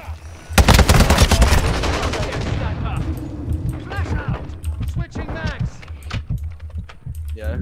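Rapid automatic Scar rifle fire in Modern Warfare 2: a loud, dense burst of shots at first, then thinner scattered shots and clicks as a voice talks over them.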